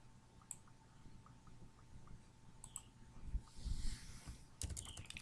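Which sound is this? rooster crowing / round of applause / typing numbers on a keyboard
typing numbers on a keyboard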